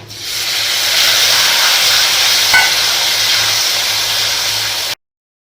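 Heated vinegar poured into a pan of frying pickle masala gives a loud, steady sizzling hiss that holds for about five seconds, then cuts off abruptly.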